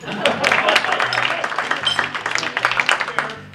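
An audience applauds, a dense burst of clapping that swells and then thins into scattered claps, with some voices mixed in.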